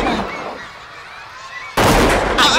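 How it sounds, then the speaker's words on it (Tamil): A firecracker goes off with a loud, sudden bang and a second crack right after, close by, following a short stretch of quieter background noise. "அண்ணே போடுங்கண்ண வெடிய."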